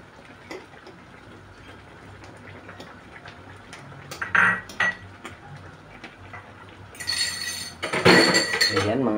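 A utensil stirs beaten egg into shrimp sarsyado, a tomato-sauce prawn dish, in a pan, giving scattered metallic clinks and scrapes. Bursts of harsher sizzle-like clatter rise toward the end.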